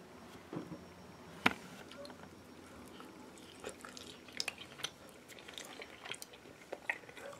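Chewing on a piece of tuna with a crispy coating, heard as soft close crunches and bites in an irregular rhythm, fairly quiet and without talk.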